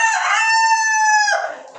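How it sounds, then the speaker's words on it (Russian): An Ameraucana rooster crows once in a chicken coop, a loud, close, sustained cock-a-doodle-doo that holds steady and then trails off at the end. "Вот я поэтому пустил сюда петуха."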